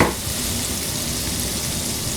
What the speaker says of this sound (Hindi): कढ़ाई गरम होगी, इसमें मक्खन डालेंगे।